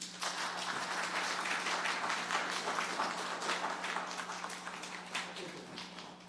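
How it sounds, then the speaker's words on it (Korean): Church congregation clapping during a Sunday service certificate presentation, a steady moderate patter of hands lasting several seconds over a low constant hum, tapering slightly near the end. "박수 해주시기 바랍니다"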